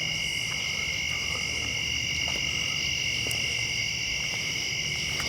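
Insects chirp steadily outside at night in a rural field, a dense high-pitched drone that holds throughout with faint frog-like croaks beneath and no voices.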